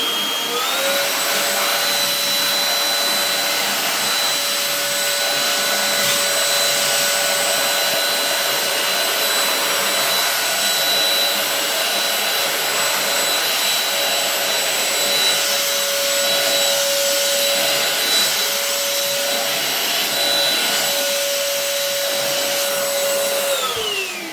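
A Silvercrest SHST 24 A1 cordless wet and dry handheld vacuum cleaner runs steadily at close range, giving a loud, constant high-pitched motor whine and airflow roar with a sharp start and cutoff.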